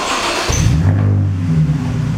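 A cold BMW Z4 engine cranks and fires up in a garage, settling into a loud, steady low idle rumble close to the microphone, with no talking.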